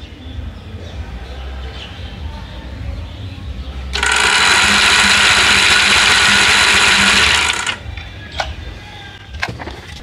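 An electric water pump motor switches on with a steady loud whine lasting about four seconds, then cuts off, set against a low background hum with a few clicks afterward.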